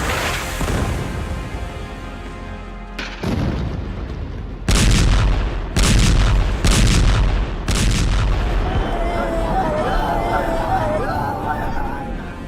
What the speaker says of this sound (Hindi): 25 नवंबर को इजराइल ने लेबनान पर ऐसे बम बरसाए